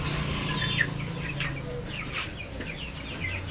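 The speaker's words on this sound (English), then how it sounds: "Look at the birds." Caged broiler chickens on a farm, large birds near 3 kg, clucking and chirping in repeated short calls over a steady background hum, close and moderately loud with no voices.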